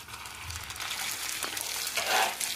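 Water poured into a hot pan of tempering with green chilli and a little sugar for topping dhokla, giving a steady hiss that swells into a louder sizzle near the end, heard alone.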